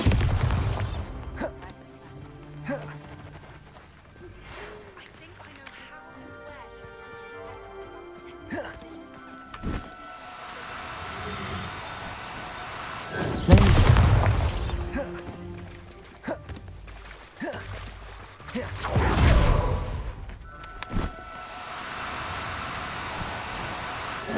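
Bombarda and Confringo spells burst in Hogwarts Legacy, several separate heavy blasts spaced through the stretch with the loudest two near the middle and later, over quieter game music and ambience.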